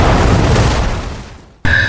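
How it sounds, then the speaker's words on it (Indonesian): A bomb goes off in an old bus with a big, loud boom whose roar slowly fades. A second sharp blast then cuts in abruptly near the end. "Terjadi ledakan besar"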